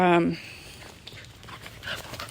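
A dog pants in quick, soft breaths close by, with a short tonal whine or whistle at the very start; a person speaks over it.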